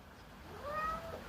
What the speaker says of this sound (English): She is so strong for a little cat, man.